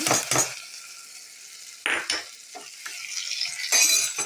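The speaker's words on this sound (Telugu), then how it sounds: "ఈ తాలింపు ఇందులో వేసేస్తున్నాను" Hot tempering is poured into amaranth and carrot tamarind curry and stirred in a pot, giving brief bursts of sizzle and spoon scraping with quiet pauses between them.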